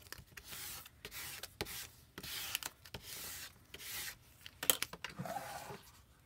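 A bone folder rubbing down small vinyl letters, giving soft, close scraping strokes in repeated bursts with brief pauses and one sharper tap near the end, no talking.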